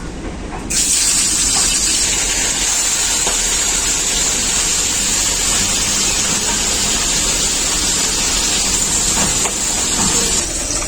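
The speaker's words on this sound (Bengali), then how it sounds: "বাকি মাছগুলো আমি একইভাবে ভেজে নেব" Fish (phali) frying in hot mustard oil in a pan, a steady loud broadband sizzle that starts abruptly and continues unbroken throughout, with no voices.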